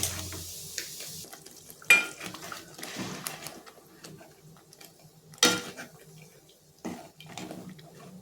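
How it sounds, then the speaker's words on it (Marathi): Spice masala cooked and whisked in a pan for dhaba-style palak paneer, giving intermittent clinks of a utensil against the pan and soft stirring over a low sizzle, with a few louder scrapes. "आता मी हे फेटून फेटून घेणार आहे आणि दोन मिनटं मसाला शिजून घेणार आहे"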